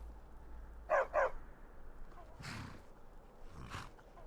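A dog in Skyrim gives two quick, close barks, followed by two softer, breathy yelps or whimpers over quiet in-game ambience.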